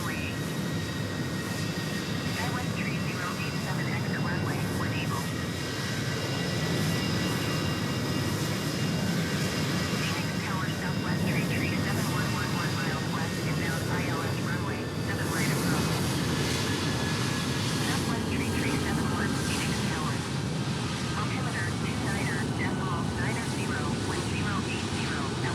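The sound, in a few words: Southwest 737-800 taking off, Microsoft Flight Simulator 2020 video game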